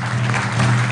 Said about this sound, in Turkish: O yüzden onları kuvvetli bir alkış istiyorum.